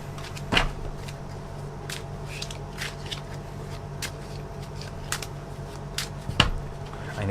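Tarot cards riffle and slap together in repeated short bursts, close and crisp, with soft shuffling between the sharper snaps.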